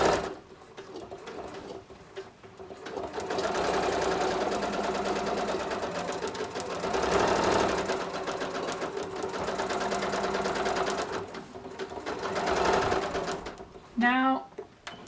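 A domestic sewing machine runs steady bursts of fast, even stitching as it sews quilting lines down the front panel of a quilted vest, the motor whirring close and loud with short pauses and a brief ratchety sound near the end.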